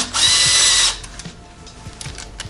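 A power tool loosens an 8mm case cover bolt on a GY6 scooter engine, giving one loud close whirring burst of under a second, then quiet ratcheting and handling clicks.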